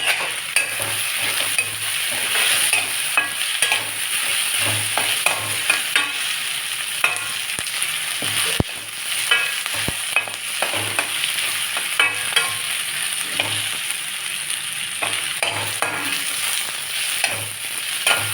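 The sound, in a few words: potatoes frying and being stirred in a pan with turmeric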